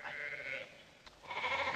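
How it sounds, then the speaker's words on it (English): Sheep bleating in a film scene: two wavering bleats with a brief pause between them, moderately faint and with no speech over them. "No, those are sheep."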